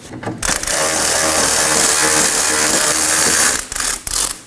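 Ratchet clicks in a steady rapid run as a bolt is backed out of a 2018-2024 Chevrolet Equinox rear wheel knuckle, close and loud, with brief pauses near the end.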